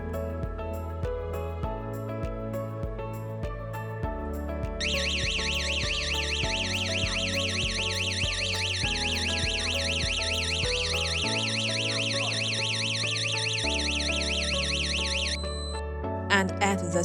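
Perimeter intrusion detection system alarm sounding, a steady, rapidly warbling electronic tone that holds for about ten seconds over background music.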